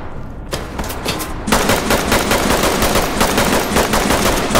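Loud, sustained automatic gunfire from the tactical shooter Ready or Not during a post office shootout, a rapid rattling stream that intensifies partway through and continues without pause.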